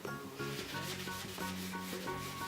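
Hand rubbing fireplace glass with wood ash in circular motions to lift soot, a steady close gritty scrubbing that continues without a break.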